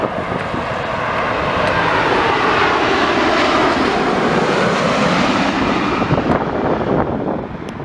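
A fixed-wing airplane comes in to land during Storm Eunice, its engine a loud, continuous roar that swells and holds steady before easing slightly, mixed with gusty wind noise and no talking.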